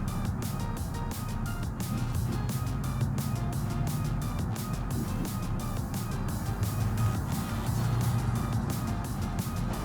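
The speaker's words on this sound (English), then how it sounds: "Kind of hear transmission a little bit too there." A car in BeamNG with its engine and transmission droning steadily, a low, continuous motor tone carrying a whine, with no talking.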